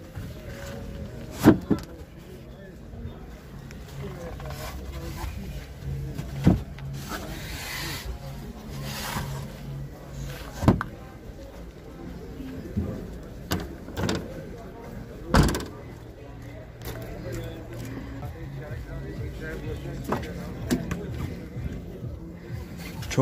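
Electric power windows on a 2009 Hyundai at a used-car market whir with a steady motor hum, broken by sharp clunks as the glass stops, several cycles in a row with faint voices nearby.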